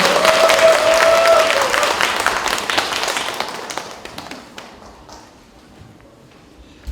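A crowd at a library policy concert claps loudly at first, then the applause gradually thins out and fades to near silence.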